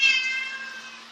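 A frightened house cat gives one drawn-out, wavering meow close by, fading toward the end over a faint steady hum.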